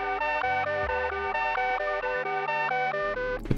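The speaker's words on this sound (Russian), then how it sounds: "Первое, что здесь играет, это арпеджио синт." Arpeggiated synth from Analog Lab with the arpeggiator set to climb upward through the notes, a steady run of bright, evenly spaced plucked notes over a sustained bass line, loud and alone.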